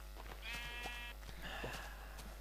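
Sheep in the Minecraft video game bleat twice in quick succession, two short wavering calls that are clear and fairly faint over a low steady hum.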